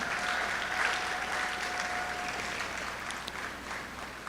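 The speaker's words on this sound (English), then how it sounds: "Please give him a round of applause." An audience at an awards ceremony applauds, a moderate, steady patter of clapping that tapers slightly, with a faint tone in the background.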